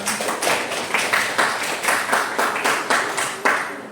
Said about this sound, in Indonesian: Oke, tepuk tangan untuk ayat ini